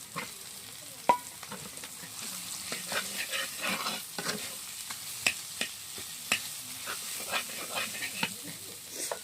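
Boiled potatoes go into a hot frying pan while making sandwiches, giving a continuous soft sizzle with scattered clicks and scrapes of stirring, heard close up and fairly quiet.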